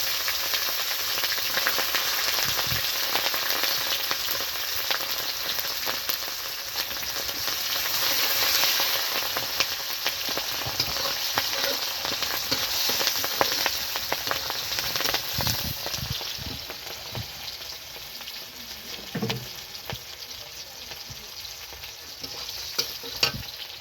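Ginger and green chilies fry in a hot pan for a Bengali kakchi fish dish, giving a steady loud sizzle with occasional stirring scrapes and no voices.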